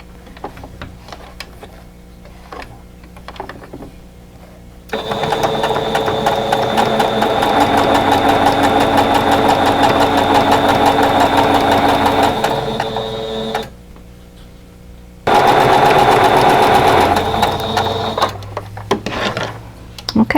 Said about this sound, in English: I'm just going to sew right along the drawn line.